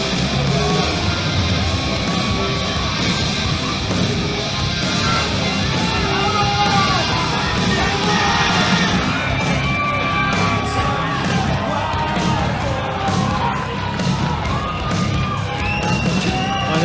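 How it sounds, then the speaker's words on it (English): A crowd at an amateur boxing fight cheers, yells and whoops continuously, dense and loud throughout, with individual shouts rising above the roar in the second half. "the crowd definitely getting into it tonight"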